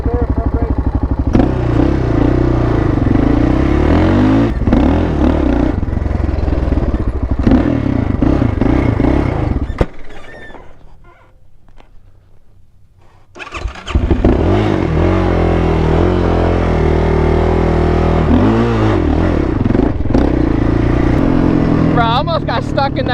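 A quad ATV with a thumb throttle idles and revs loudly up close, its engine note rising and falling with clattering bursts. It drops nearly to silence for a few seconds, then roars back. People talk over the engine.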